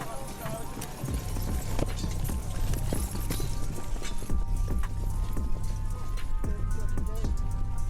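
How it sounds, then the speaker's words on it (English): Cavalry horses clatter with rapid, loud hoof clip-clops as one horse goes wild in front of soldiers and their mounts at a British royal military event, dense and continuous beneath a busy crowd din. "his horse goes wild in front of the soldiers and their horses"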